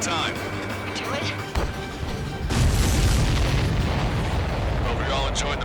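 Supply ships exploding in the flight combat game Ace Combat 7: deep booming blasts that swell into a loud, sustained rumbling roar, with radio chatter in the background.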